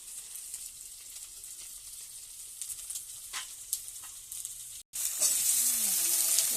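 Diced potato pieces with potato stalks sizzle and crackle steadily as they fry in a pan on a newly built clay stove, with a brief drop-out before the frying sounds return louder and closer.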